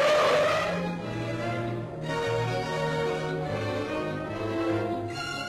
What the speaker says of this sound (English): competitors were required to accelerate to a speed of not less than 30 miles an hour in a distance not exceeding 200 yards, and then brake to a standstill